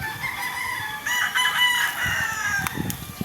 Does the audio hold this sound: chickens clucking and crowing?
yes